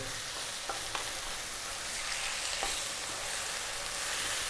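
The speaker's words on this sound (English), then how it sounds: "What we're going to do now is drop in that soy." Chicken fried rice sizzles steadily in a hot pan as light soy sauce goes in, a dense continuous frying hiss with a few faint scrapes and stirring clicks, close and fairly loud with no talking.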